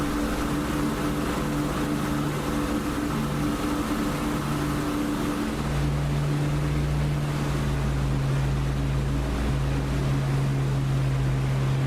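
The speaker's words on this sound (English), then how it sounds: "Forgot to pull my prop pitch back, so the engine's been revving quite a bit" Aircraft engine in DCS flight simulator revving hard with prop pitch left forward, a steady loud drone with constant tonal hum that shifts pitch slightly midway, continuous throughout with no talk.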